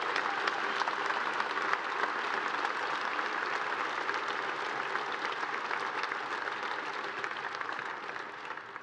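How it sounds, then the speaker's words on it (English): Audience applause at a 2012 Grafton High School graduation for scholarship award recipients, a steady dense clapping from a large crowd that holds evenly throughout and tapers slightly at the end. "Please give another round of applause to this year's Scholarship Award recipients"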